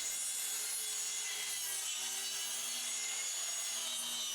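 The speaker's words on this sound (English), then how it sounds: "I'm using a Makita track saw that I recently got, which is super helpful." Makita track saw cutting wooden decking boards laid diagonally, a continuous bright, even whine with rasping wood noise, loud and close with no break.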